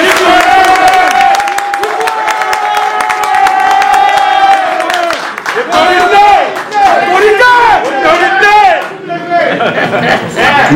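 A press conference audience in Paris for Werrason breaks into loud, sustained applause and cheering, with whoops and shouting voices over continuous dense clapping that swells and dips throughout.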